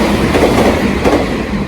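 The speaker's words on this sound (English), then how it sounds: "This next video here is of a train coming through a station here in Okazaki, Japan. This train doesn't stop." A limited express train runs through a station in Okazaki, Japan without stopping, a loud close rumble of wheels on rails holding steady throughout.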